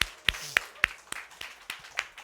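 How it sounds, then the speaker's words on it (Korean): A small church congregation at a Sunday worship service gives a sparse welcome applause, a handful of separate, crisp claps in a loose rhythm, fairly quiet and close, with near silence between them. "우리 환영의 박수 한번."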